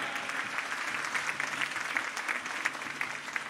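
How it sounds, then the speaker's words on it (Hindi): Thunderous clapping from a large crowd at a political rally in Sanwer fills the air, dense and continuous with sharp individual claps standing out, no voices over it. "तालियों की गड़गड़ाहट से शिवराज सिंह जी को हम धन्यवाद अर्पण करें"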